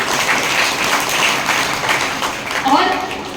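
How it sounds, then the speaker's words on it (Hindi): Loud applause from a gathered audience at a devotional song and prayer event, a fluttering burst of many hands with voices mixed in over it. "जोरदार ताली बजाइए"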